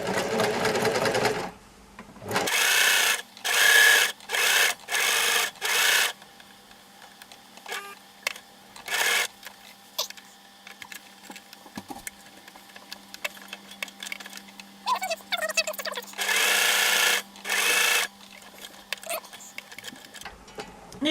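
A sewing machine stitches a quilted bag in short, loud bursts of rapid needle chatter, separated by pauses with a low hum and small handling sounds.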